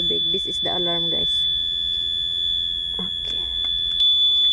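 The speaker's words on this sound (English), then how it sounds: "This is the alarm, guys." In a home kitchen where salmon is cooking, a smoke detector shrills a constant piercing tone, unbroken beneath brief bursts of someone speaking and scattered household clatter.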